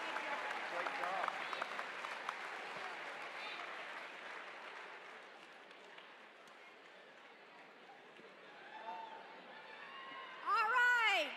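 An audience at a dance competition show applauds steadily after a perfect score, the clapping gradually thinning, then a burst of cheering and whoops rises near the end.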